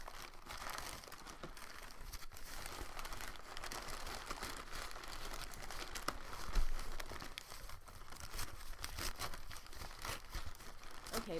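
Wrapping paper on a custom leather journal cover package is torn and crumpled while being opened: quiet, continuous crinkling with scattered sharper rips and crunches, close by and without talk.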